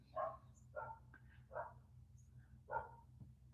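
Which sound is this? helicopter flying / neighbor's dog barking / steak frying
neighbor's dog barking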